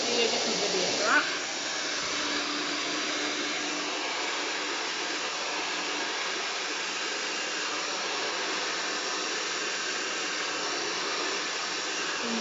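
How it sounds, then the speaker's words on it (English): A hair dryer blows steadily for several seconds while drying the roots of hair, producing a continuous close whooshing hiss with one brief disturbance near the start. "I'm drying those roots so that I don't get that fluff before I get to them."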